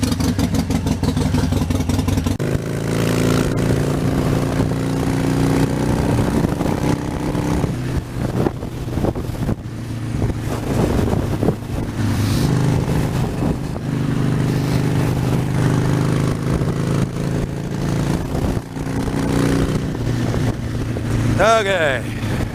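A motorcycle rides fast on the freeway after lane splitting, its engine a steady loud drone under heavy wind rush, with speech from the rider over it at times.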